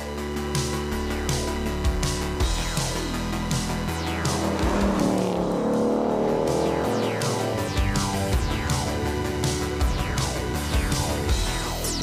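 A 2018 Ford Mustang 5.0 V8 GT with 450 hp drifts on a slippery track with stability control off, its V8 roaring and revving up and down while the tires squeal and skid loudly nearby.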